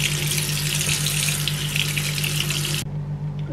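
Tap water gushing steadily into a sink while eggs are washed for a Chinese-style black egg dish with young ginger, a loud close continuous stream that cuts off abruptly near the end.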